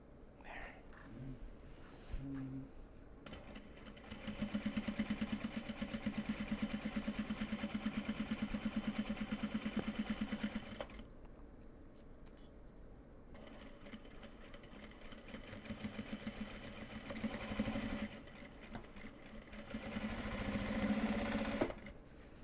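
A sewing machine stitches an upcycled obi and kimono bag, running in steady motor-driven bursts with short pauses between passes, fairly close and clear, with no talking over it.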